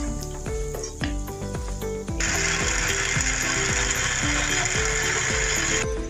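A blender grinds ginger, onion and garlic with water into paste: loud mechanical whirring with a rhythmic grinding pulse that steps up to a higher, harsher pitch partway through, running steadily with no talking.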